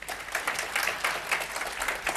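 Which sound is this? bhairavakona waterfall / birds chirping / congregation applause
congregation applause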